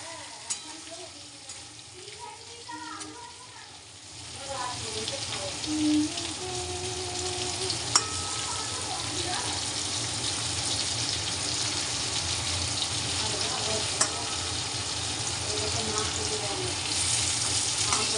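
Onions sizzling and being stirred in a pan for a whole pointed gourd recipe, a quieter start giving way to a loud, steady frying hiss with occasional clinks and scrapes, close up.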